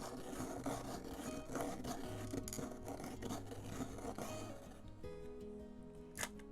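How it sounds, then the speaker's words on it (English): A pencil turned in a small hand sharpener gives a quiet, close, rhythmic rasping scrape in repeated strokes, fading into a soft click and faint rubbing near the end. "So I'll go ahead and sharpen it."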